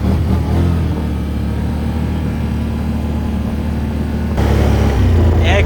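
A Can-Am Outlander 850 XT ATV engine, a 2021 model, revs hard in sport mode close by, a loud sustained drone that swells with a sudden surge of throttle near the end.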